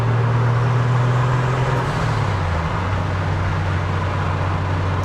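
A turbocharged inline-six in a 1987 Toyota Supra Mk3 hums with a steady, loud drone from start to finish, its pitch dipping briefly near the midpoint before settling again, with no talk over it.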